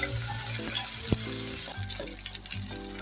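Green pea paste sizzles in hot oil in a wok with a loud, dense, continuous crackle that eases slightly partway through, with soft tonal music underneath.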